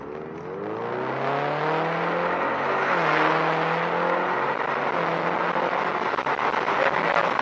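A 2019 EcoBoost Mustang in automatic mode laps the Willow Springs track, its engine droning loudly from inside the car with pitch rising and falling through gear changes.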